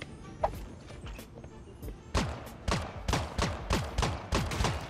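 Gunfire in a Fortnite-style shooter game: scattered shots at first, then a rapid, evenly spaced burst of loud, sharp reports, close and unbroken by talk.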